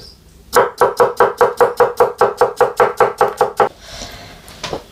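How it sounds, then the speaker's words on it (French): A knife slices seeded cucumbers into very thin strips on a board, giving a rapid, even run of about fifteen crisp close chops, then a pause and one last faint tap. "on vient les couper en toutes petites lamelles, vraiment très fines"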